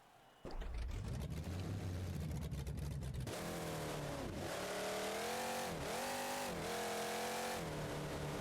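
A monster truck in BeamNG.drive, with a stock Ford engine, revving hard with rising and falling pitch as it accelerates and shifts, loud and continuous throughout.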